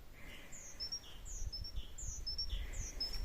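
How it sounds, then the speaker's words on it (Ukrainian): Small songbirds singing in spring, repeated high chirps and whistled phrases carrying over a low outdoor rumble, fairly faint and distant, with no voices. "Птахи як співають."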